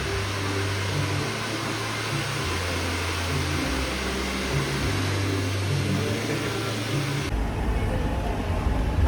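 Steady mechanical hum and fan-like whir inside a moving lift, continuous and close, with a low droning tone that shifts pitch slightly and changes character near the end; no talking.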